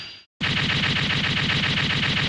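Black Bomb weapon in Mega Man Legacy Collection 2, a brief sound followed by a short gap and then a loud, rapid, machine-gun-like rattle of repeated firing that continues steadily to the end.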